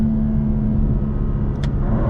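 A 2024 BMW M2 with a torque-converter automatic revs hard while being driven, a loud steady engine drone with a brief quick shift blip near the end, close and alone.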